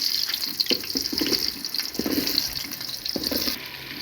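Cut potatoes hit hot mustard oil in a cooking pot, giving a steady close hiss and sizzle with occasional crackles and small clatters running throughout.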